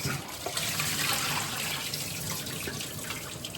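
Cut bamboo shoots for chicken bamboo vermicelli are rinsed in a container of cold water and strained, with steady splashing and running water close by and no voices.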